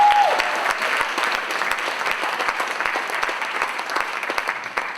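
An audience claps steadily for several seconds, a full crackling wash of applause that fades slightly toward the end.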